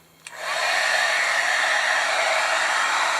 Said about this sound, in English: This is a heat gun for embossing